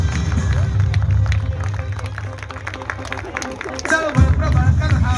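Applause and cheering from an audience at a children's performance with a flag demonstration for Dr. Babasaheb Ambedkar Jayanti, a crowd clapping amid babble that swells near the end, with a voice speaking over it.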